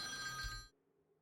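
A telephone ringing in a video game: a single short, bright electronic ring that cuts off abruptly after well under a second, with no voices over it.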